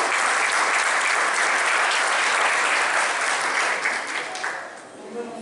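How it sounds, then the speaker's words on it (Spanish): An audience at a seminar claps in sustained, dense applause that stays loud before tapering off over the last second or so. "a quien recibimos con un fuerte aplauso"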